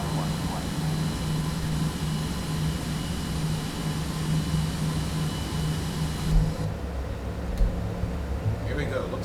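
A Citation X business jet in a flight simulator spools up for departure, a loud, steady broadband engine roar with a low hum that holds for several seconds, then thins as the noise shifts midway.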